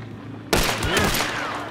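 Gunfire in the video game Hunt: Showdown, a sudden loud burst of shots with crackling echo that trails off, following a quiet moment.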